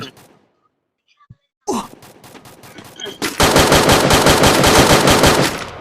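Rapid automatic gunfire from the Free Fire battle royale game starts after a near-silent pause with a quick burst of shots, then builds into a loud, sustained stream of fire that fades toward the end, with faint talk mixed in.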